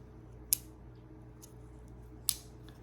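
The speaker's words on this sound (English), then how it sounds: "It's got a spring-loaded, very positively catching pair of pliers." Two sharp metallic clicks, about two seconds apart, ring out crisply in an otherwise quiet room as the spring-loaded pliers of a NexTool Mini Sailor keychain multitool snap shut.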